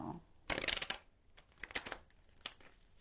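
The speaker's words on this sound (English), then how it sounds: "these cards don't want to shuffle anymore" Tarot cards being shuffled in a hand during a reading, giving two or three bursts of papery riffling and flicking, close and moderately loud, with no talking.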